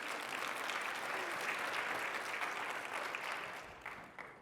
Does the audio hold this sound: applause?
yes